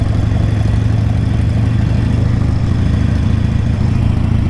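Motorcycles idle on Main Street, closed off for Daytona Bike Week, with a loud, continuous low engine rumble and steady throbbing and no clear revs standing out.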